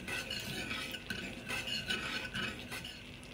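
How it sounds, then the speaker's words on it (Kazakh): Fermented milk (irkit) reduces into kurt in a pot, with a steady low bubbling and simmering hiss and a few soft scraping touches, close and alone without voices. "Мінекей іркіт қайнап, көлемі азайып, құрт қайналып жатыр."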